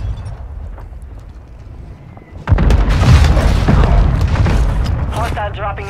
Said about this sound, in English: We got mortar strike above us.